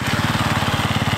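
A car engine runs close by with a low, steady pulsing throb as the clutch is held at its bite point, loud and even throughout.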